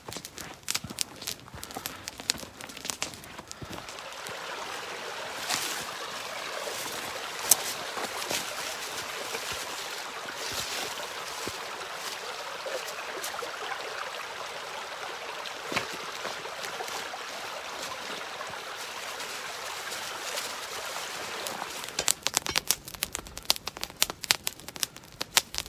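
Footsteps crunch steadily along a path toward a flowing creek at a winter tarp camp, with a constant broadband rush of moving water throughout and heavier, closer footfalls near the end.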